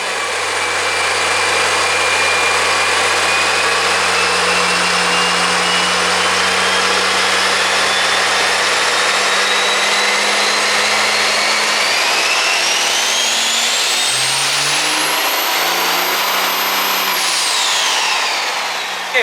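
A loud diesel truck engine, a 2012 model making about 1200 horsepower, runs hard under load on a dyno, revving steadily higher with a rising turbo whine, then dropping off abruptly at the end.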